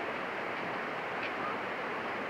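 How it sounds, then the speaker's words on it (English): Yosemite National Park waterfall, a steady broadband roar of rushing water that is continuous and fairly loud, with no breaks and no clear voices over it. "That goes the waterfall."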